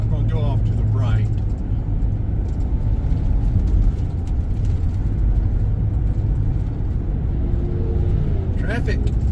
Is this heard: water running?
no